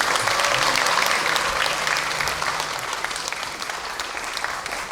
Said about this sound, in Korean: 박수 한번 쳐주시겠습니까